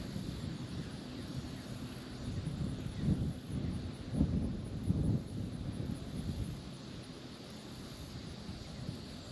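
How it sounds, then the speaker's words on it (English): Wind gusts across a farm pond, buffeting the microphone in uneven rumbling waves that swell in the middle and ease off, with no voices over it. "All this wind keeps on shoving me right here into this moss and grass behind me at the very end of the pond."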